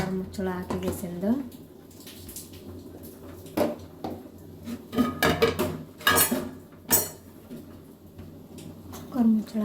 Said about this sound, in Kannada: ಕುಕ್ಕರ್ ಮುಚ್ಚಳ ಹಾಕಿಗೆಸಿಂದು